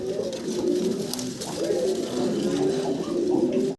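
Pigeons coo continuously in a loft, several birds overlapping in low, throaty rolling calls that stay close and fairly loud, with faint background voices underneath.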